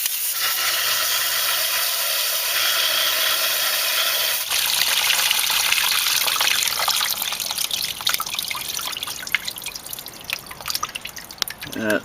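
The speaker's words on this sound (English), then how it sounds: "I'm using a water stream to kind of clean this out." A water stream hisses and splashes as it flushes out an Olds 394 engine block, turning into steady trickling and dripping that stays close and fairly loud.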